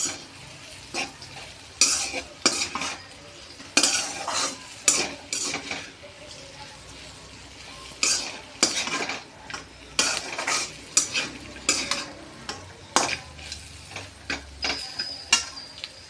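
Bitter gourd fries on a low flame as a spoon stirs and knocks against the pan in repeated clinks and scrapes over a gentle sizzle, close and with no voices.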